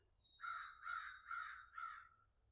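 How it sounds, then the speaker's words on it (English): Four harsh crow caws in an even rhythm, fairly distant and faint against a quiet outdoor background. "I don't know if you can hear the bird calls"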